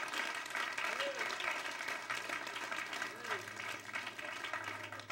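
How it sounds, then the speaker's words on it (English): Church congregation at a Sunday morning service claps in a steady round of applause, moderately distant and sustained, with a faint tone and occasional voices beneath. "Can you give the Lord a good round applause this morning?"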